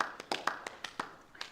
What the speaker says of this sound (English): So I thought we could begin with a round of applause befitting of such a great man.